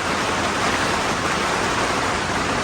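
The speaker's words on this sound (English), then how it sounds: "you can hear the rain. It's coming down." Rain pours down outdoors at Snowbasin, a dense, steady, loud hiss with no breaks.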